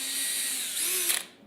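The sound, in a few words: power drill drilling holes in wood for a hinge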